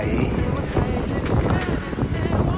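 Cold sea wind blows across an island beach, buffeting the microphone in a loud, continuous rumble with a faint hiss of surf beneath it.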